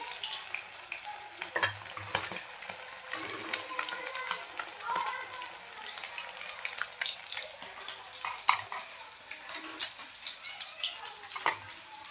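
Pieces of Chilapi fish fry in hot oil with a steady, bright sizzle and crackle, broken by occasional sharp pops and spatters, and a voice talks over it.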